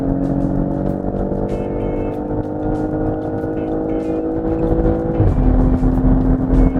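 A BMW X6 40i SUV in sport mode, exhaust flaps open, accelerating hard with a steady, loud engine and exhaust drone that rises in pitch before a gear change, captured from inside the cabin under a continuous din.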